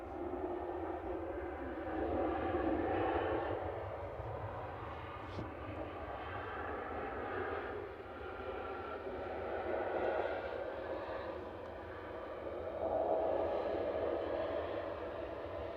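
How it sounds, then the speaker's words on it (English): A Shuttle Airbus A320 Classic arriving at Manchester Airport in the evening, a steady, moderately loud engine rumble that swells and eases several times as the jet approaches. "Here's Shuttle 2 Delta coming in from Heathrow."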